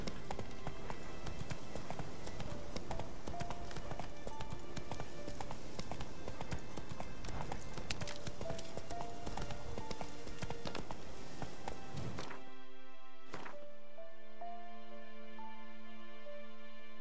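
Roach, a horse in The Witcher 3, gallops with quick rhythmic hoof clip-clops over a game soundtrack, and the hoofbeats cut out near the end, leaving music and a brief whinny-like burst.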